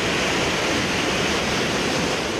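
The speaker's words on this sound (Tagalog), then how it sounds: "bumuhos na ang malakas na ulan sa ilang bahagi ng Metro Manila" Heavy early-morning rain pours over Manila Bay in Metro Manila as strong waves surge, a loud, steady, dense roar of rushing water that holds unbroken throughout with no voices.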